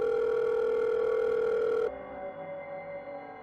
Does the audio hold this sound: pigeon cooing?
no